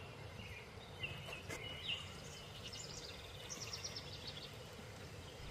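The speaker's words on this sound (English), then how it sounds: "That's the song of the Baltimore Oriole that you're hearing." A Baltimore Oriole sings outdoors in short, faint, scattered whistled phrases, heard at a distance over a steady wash of background noise.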